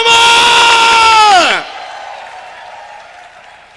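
A conference audience at a property brokers event cheers and whoops loudly as a crowd for about a second and a half, then the roar breaks off into a quieter hall murmur with a shouted word over it.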